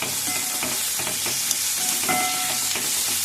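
Tomato sizzling and frying in a pan for palak chicken, with a steady dense crackle and occasional stirring scrapes, close and loud, no talking.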